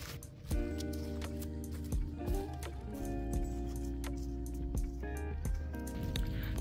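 Feet squelch through mucky mud near a creek on a camping outing, a series of wet, sucking steps at close range over a steady low background hum.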